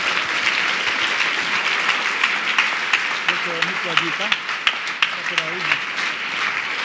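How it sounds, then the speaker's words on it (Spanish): Church congregation applauding at a Spanish-language Pentecostal service, steady dense clapping filling the whole stretch with sharper individual claps standing out, while a voice speaks over it partway through. "Dele un mejor aplauso al Señor"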